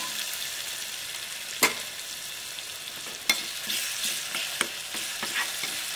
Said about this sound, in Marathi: फक्त हिरव्या मिरचीचंच आपण वाटण केलेलं ते वापरणार आहे. तर आपण थोडंसं परतून घेऊया.